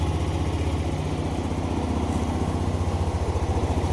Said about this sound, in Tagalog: nagre-redondo yung makina